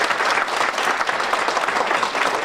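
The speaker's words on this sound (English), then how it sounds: "So can we give these three a round of applause?" A school district board meeting audience breaks into loud, sustained applause, a dense, even wash of many hands clapping close by.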